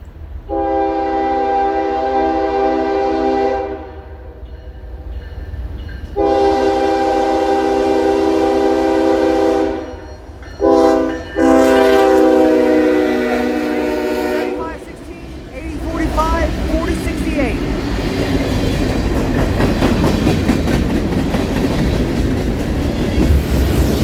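Norfolk Southern freight train NS 363 passes close by with a Ferromex locomotive trailing fourth of four, sounding loud sustained horn blasts before the rumble and clatter of the cars rolling past.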